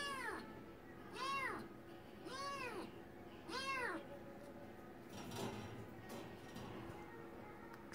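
Kittens meow close by in a run of four clear, rising-and-falling calls about a second apart, followed by softer scattered sounds.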